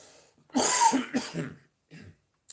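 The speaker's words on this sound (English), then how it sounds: "Don't mind me coughing." A cluster of several harsh, close coughs in quick succession, followed by a shorter cough after a brief pause.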